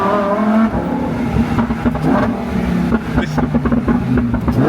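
Supercar with an aftermarket exhaust pulling hard under acceleration, the engine note rising and roaring loudly with tire noise, heard close from inside or beside the car.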